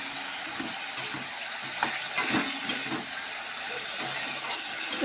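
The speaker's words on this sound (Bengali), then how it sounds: "এবার আমি মাংসগুলো দিয়ে দিলাম" Meat frying with tomatoes in a pan, a continuous soft sizzle and crackle with light intermittent stirring clicks, moderately close and steady throughout.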